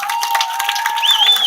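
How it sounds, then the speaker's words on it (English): Crowd applause and cheering at a campaign gathering in Sycamore Brewing, steady and fairly loud throughout, with a thin whistle-like tone sliding in near the end. "please join me in giving a round of applause to my friend and fellow veteran"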